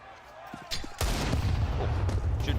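Gunfire and grenade blasts in a professional Counter-Strike playoff match, with a sharp burst of shots followed by a dense, loud barrage of rattling fire and booms.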